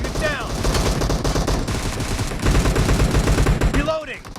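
Rapid automatic gunfire in a shooter video game, loud continuous bursts of shots mixed with game effects and brief announcer-style voice cues, a whooshing sweep near the start and end.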